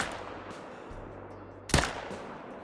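Single rifle shot fired at a whitetail deer roughly 450 to 500 yards away in the mountains of Alberta, in the hunting video game Call of the Wild: one sharp, sudden crack over a low, steady background hum.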